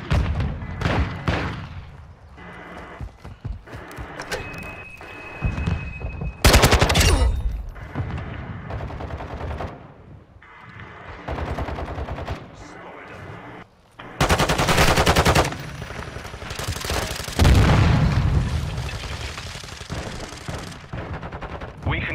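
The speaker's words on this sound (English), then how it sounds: "Throwing grenade!" Gunfire rattles in rapid bursts with heavy explosive blasts in the Modern Warfare 2 video game during a multiplayer objective match, loud and dense, with brief lulls between a grenade blast and later barrages.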